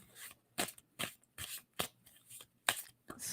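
Tarot cards being shuffled in a series of crisp riffling bursts, each a short papery rush with brief pauses in between, close and fairly quiet with no talking.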